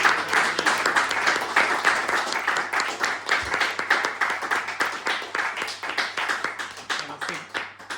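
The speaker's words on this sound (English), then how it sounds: "I think a round of applause for that." Small audience applauding at a film premiere, a lively, slightly uneven burst of close clapping that carries on for several seconds with a faint hum beneath.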